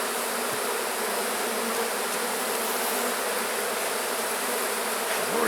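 Dense, steady buzzing of honey bees swarming around an opened hive during a hive split, close and continuous with no talk over it.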